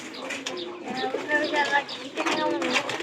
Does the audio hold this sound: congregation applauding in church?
no